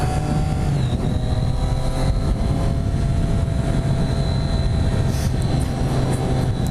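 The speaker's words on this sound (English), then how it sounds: "riding around at 50, 60, 70k an hour all the time" A motorbike travels at speed, around 50 to 70 km/h, with a steady roaring engine drone and wind rush throughout. A faint whining tone runs through the noise, and there is no clear speech.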